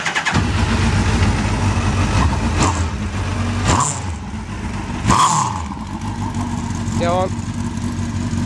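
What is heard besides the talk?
Suzuki Hayabusa-engined Mini car engine starting and idling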